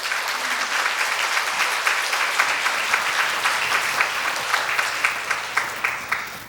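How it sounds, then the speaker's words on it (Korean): A church congregation at an afternoon service clapping to welcome a guest speaker to the front, a loud, sustained wash of many hands throughout, with a faint low hum beneath. "김현일 대표님 나오실 때 박수로 환영하도록 하겠습니다."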